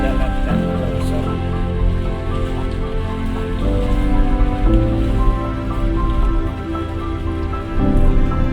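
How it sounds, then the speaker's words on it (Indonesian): Steady rain falling in Solok, West Sumatra, a constant dense hiss close by with layered tonal hum beneath it throughout. "Kironya hari hujan sana."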